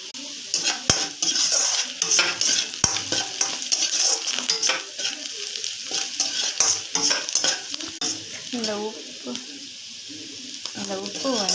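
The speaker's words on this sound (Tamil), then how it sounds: "வெங்காயம் கொண்டு வதக்கிக்கலாம். வெங்காயம் வதங்கிறதுக்கு கொஞ்சம் லேசாக உப்பு போட்டுக்கலாம்." Onions sautéing with a little salt in a pan, steady sizzle under repeated stirring scrapes and clinks of a utensil, with someone talking over it.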